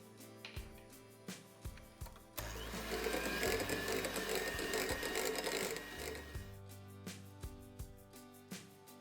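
An electric mixer whirs steadily for about three seconds while beating cream cheese filling with egg yolk, set between soft repeated clicks and taps of handling in a home kitchen.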